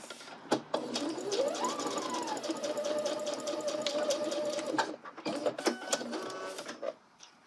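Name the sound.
sewing machine stitching a coat seam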